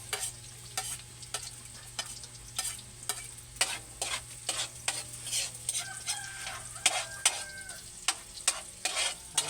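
Garlic and then onion sauté in a hot pan, a steady oil sizzle broken by repeated scraping stirs of a spatula at an irregular rhythm, close and moderately loud, with a rooster crowing faintly in the background.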